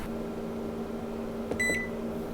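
A kitchen oven timer goes off while bread heats at 180 degrees, a short bright electronic beep ringing out once over a steady low hum of the running appliance.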